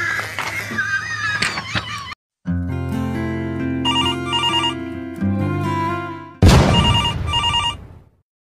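A telephone ringtone rings loudly and repeatedly in a home, electronic melodic tones in several bursts with a short break partway, alone without speech.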